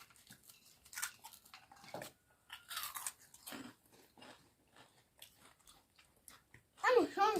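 Potato chips being eaten up close, with soft, repeated crisp crunches and bites scattered through quiet talking, and a louder burst of crunching near the end.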